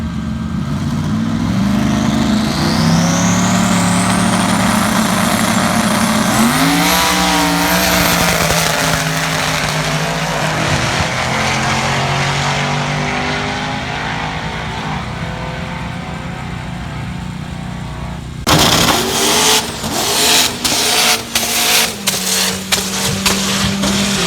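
Race cars at a grudge race roaring loudly past, engines rising and falling in pitch as they accelerate and pass by, with a harsh burst of engine noise and crowd clamor near the end.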